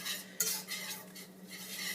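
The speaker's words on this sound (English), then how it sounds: "so I'm going to whisk it." Whisk scraping through a mac and cheese mixture in a pan, with a sharp metallic clink near the start followed by continuous soft stirring and rasping, quiet and close, no talking.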